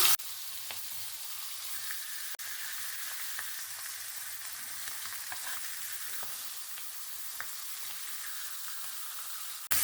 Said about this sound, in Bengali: এবার ইলিশ মাছের মাথাগুলো ভেজে নেব